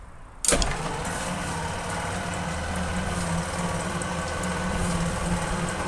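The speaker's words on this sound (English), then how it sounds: "We're going to connect the battery, crank on it." A 1939 Packard engine turns over on the starter after a sharp onset, a steady churning drone with rhythmic low pulsing that carries on without a break. No one speaks.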